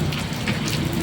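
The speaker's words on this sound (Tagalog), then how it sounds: "ramdam na yung ulan dito sa Marikina" Heavy rain in Marikina, a dense, loud, steady hiss of downpour pattering on surfaces, continuous and close with no pauses.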